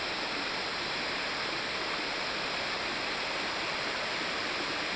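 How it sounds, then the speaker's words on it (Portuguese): Steady, broadband rush of a waterfall, constant and fairly loud with no pauses or voices, like water pouring heavily nearby. "Tá aí a cachoeira toda."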